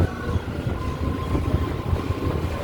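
A Howrah–Digha EMU local train pulls out of Uluberia station, its low, steady rumble and rolling carriage noise holding evenly throughout with no voices.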